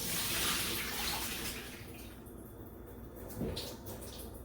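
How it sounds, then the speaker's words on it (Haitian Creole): Water poured out of a container after washing rice, a splashing, running gush that is loudest at the start, eases off, then gives a brief extra splash near the end, heard with no talking. "vous jetez première de l'eau"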